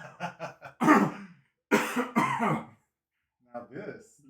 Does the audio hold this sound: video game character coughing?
yes